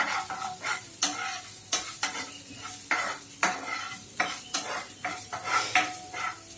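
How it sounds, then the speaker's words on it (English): Ginger and garlic sweat in a frying pan, with a soft steady sizzle broken by repeated scraping spatula strokes and clinks against the pan at an even rhythm, close by. "The ginger and garlic started to sweat."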